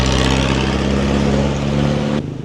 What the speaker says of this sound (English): Just look at this traffic jam right here.